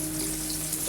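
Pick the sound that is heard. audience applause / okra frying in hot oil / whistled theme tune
okra frying in hot oil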